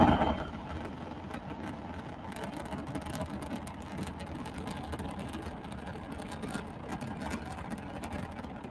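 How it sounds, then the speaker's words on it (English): A Rocket Lab rocket engine firing gives a faint, steady low rumble with a mechanical rattling texture, continuous and distant throughout. "the last like 30 seconds, you can actually hear the engine itself"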